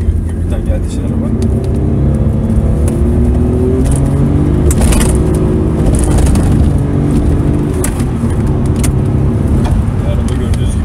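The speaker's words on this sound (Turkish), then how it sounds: "Araba gördüğünüz gibi yürüyor yani." The engine of a 1988 Honda Legend 2.7 V6 coupe hums steadily at close range while driving, with a low rumble throughout, while people talk over it.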